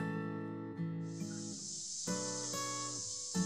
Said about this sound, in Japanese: 耳をつんざくようなセミの声。